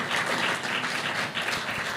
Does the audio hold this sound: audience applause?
yes